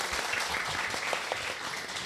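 Audience at a community health talk show in Serpong Utara, Tangerang Selatan, clapping together in a steady, full round of applause that holds at even loudness throughout.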